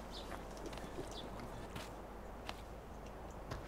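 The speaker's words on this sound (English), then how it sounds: "it's got some horses in here as well" Horses clip-clop at a farm in Farming Simulator 2015, a faint scatter of light hoof taps and clicks over a low, steady background hum.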